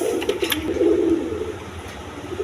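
A pair of pigeons in a loft, the male cooing in soft, low, repeated throaty calls at close range with faint background rustle.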